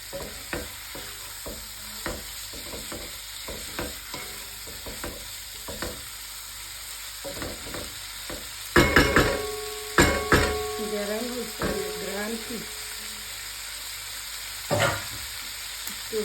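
Food frying in a pan in a home kitchen, with a steady sizzle under repeated clatter of stirring and utensil knocks, plus a brief voice partway through.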